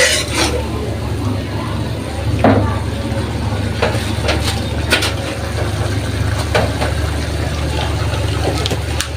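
Spiced curry stirred and fried in a pan: a steady sizzle with scattered scraping and clinking from the spoon against the pan, continuous and close throughout.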